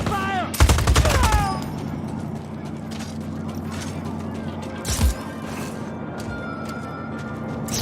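Gunfire in the Just Cause 4 video game: a loud burst of rapid shots opens the scene, then scattered impacts and a steady mechanical drone, with a second sharp blast midway and faint radio-like chatter at times.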